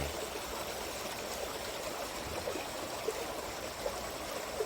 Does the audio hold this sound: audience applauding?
no